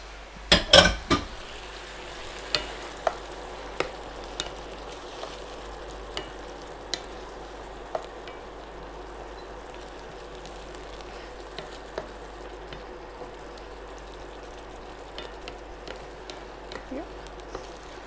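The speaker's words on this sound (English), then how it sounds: "so just really mix it really well together" A spoon stirs green lobio with tomatoes in a pan, striking the pan in sharp, spaced clicks and scrapes over a faint, continuous background sizzle.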